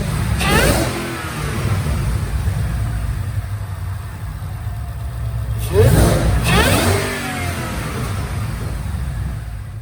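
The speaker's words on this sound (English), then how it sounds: "let's look at the engine compartment and let's watch a dyno pull." A 2014 Roush supercharged Mustang RS3 runs on a dyno: a steady engine drone with two sharp revving bursts, the second longer and louder, heard up close.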